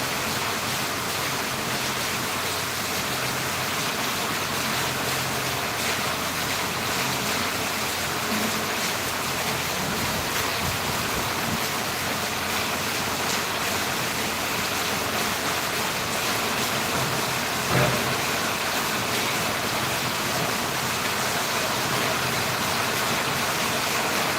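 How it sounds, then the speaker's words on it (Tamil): Heavy rain pours steadily in Valliyur during a thunderstorm, a dense, even hiss that lasts throughout. One faint thump is heard, and no one speaks. "பயங்கரமாக மழை அடிச்சிட்ருக்கு"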